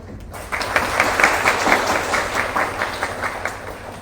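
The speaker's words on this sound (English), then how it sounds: "Please give us a warmest applause." Audience applause at a moot court grand final in Vietnam, a burst of steady clapping starting abruptly after a brief quiet moment and continuing evenly at moderate volume.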